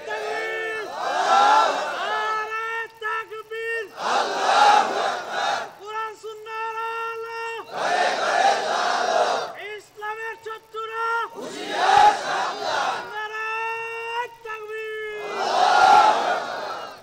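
A large religious gathering at an Islamic lecture answers in unison with loud chanted takbir shouts, five long sustained bursts of massed voices, each followed by a short pause as the caller leads again.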